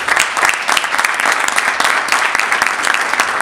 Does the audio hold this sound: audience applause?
yes